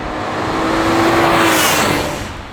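A BMW E46 M3 engine with individual throttle bodies revs up and holds a high, throaty pitch, swelling to a peak before easing off over about two seconds.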